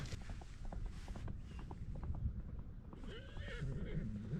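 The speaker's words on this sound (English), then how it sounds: "Oh, it's a horse. I didn't know what that noise was before." A horse whinnies in the background amid outdoor noise, with a rising, wavering call near the end over a steady low rumble.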